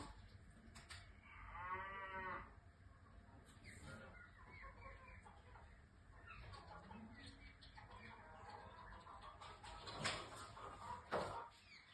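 A cow moos loudly in a long, wavering low call, with scattered clucking from chickens and some background voices around it.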